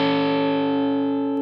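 A single sustained electric guitar double stop in sixths rings out through a distorted effects chain, loud and even, slowly decaying for over a second with no voice over it.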